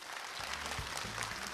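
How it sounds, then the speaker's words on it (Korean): Audience applause at a Korean residents' self-governance ceremony, a brief burst of dense clapping that fills the short stretch at a steady, moderately distant level without speech. "박수 주십시오."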